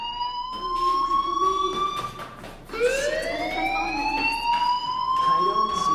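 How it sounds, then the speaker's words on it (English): Rising and falling electronic wail of a school fire alarm in the video game Life Is Strange, sweeping repeatedly and loud, with faint background noise beneath. "Hey, do you hear that fire alarm?"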